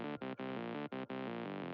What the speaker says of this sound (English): It's just a saw wave with some noise, and it has a lot of distortion